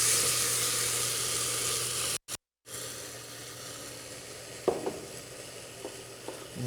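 Onion and ketchup frying in a pan for a pork rib quibebe, with a steady close sizzle and hiss, a brief cut, then a few soft spoon scrapes and taps as the mixture is stirred.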